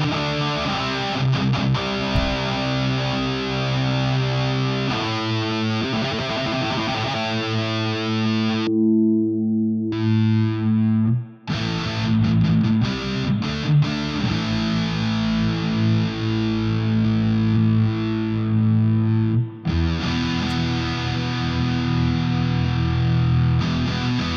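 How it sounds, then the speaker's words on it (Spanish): Electric guitar through a virtual Soldano SLO 100 amp with distortion and a chorus effect, sustained heavily driven chords and riffs with brief pauses between phrases. "Vamos a usarlo con distorsión."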